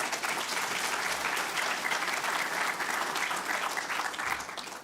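Sustained audience applause at an education results ceremony in Namibia, a dense, even wash of clapping from a sizable crowd, heard from a moderate distance with no talking over it.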